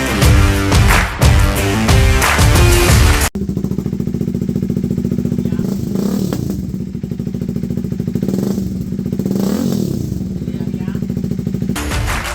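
A Yamaha VMAX motorcycle with a baffle insert in its exhaust idles and revs with a low, steady exhaust burble, close up, after a brief burst of louder sound at the start.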